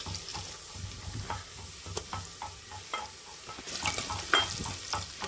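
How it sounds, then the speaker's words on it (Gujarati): Hot oil sizzles and crackles steadily as spices are tempered and stirred, with occasional scraping clinks of a utensil, close and fairly quiet. "તેલ પણ મુકાઈ ગયું છે, વઘાર મારી દઈ"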